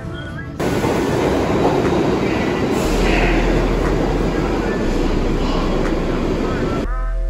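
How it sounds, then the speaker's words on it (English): A New York City 1 subway train heading uptown rumbles loudly and steadily throughout, with rattling car noise and a faint whine, starting abruptly and cutting off at the end. "This is me taking the one train uptown to go to my university"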